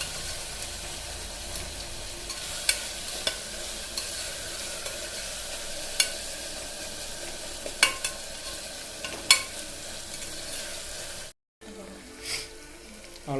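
Ginger garlic paste sizzles and fries in a pan for millet kichadi while a spoon stirs it, scraping and tapping at irregular moments over a steady frying hiss.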